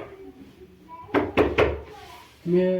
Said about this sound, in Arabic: راح وليد يفتح باب لمحمود.